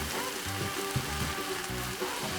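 Anchovies and green onions simmer and stir-fry in a bubbling Korean braising sauce, giving a steady close sizzle with soft, rain-like crackle and faint knocks of a utensil against the pan.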